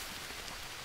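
Steady rain in the survival video game Green Hell falls as a dense, even hiss across the whole moment, with no voices over it.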